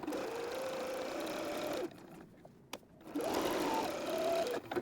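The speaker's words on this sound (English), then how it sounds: "you're sewing up the top and leaving the whole bottom edge open" A sewing machine stitches the seam of a cuddly creature travel pillow, running steadily, pausing briefly, then running again, fairly close and clear.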